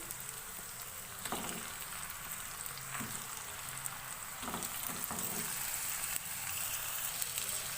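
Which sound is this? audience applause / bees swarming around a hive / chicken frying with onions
chicken frying with onions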